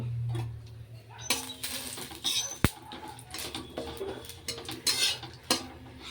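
Bay leaf, cardamom and cloves being stirred in ghee in a wok, with a few scattered scrapes and clinks of a spoon against the metal, close by, and one sharp knock partway through.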